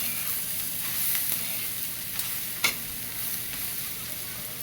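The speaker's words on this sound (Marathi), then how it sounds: "हे बघा असं चांगलं परतून घ्यायचं मीठ मिरची आपला कांदा" Onion with salt and chilli sautéing in a pan: a continuous, close frying sizzle broken by a few light scrapes and taps as it is stirred.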